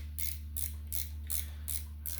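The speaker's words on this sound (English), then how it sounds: "So I have my ratcheting 13. We'll just start going to town on the intake manifold." A 13 mm ratcheting wrench loosens intake manifold bolts on a 1.6 CVH engine, giving five quick bursts of close metallic clicking in a steady rhythm over a low steady hum.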